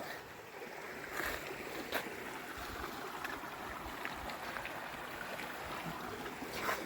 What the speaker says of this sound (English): We have another water crossing.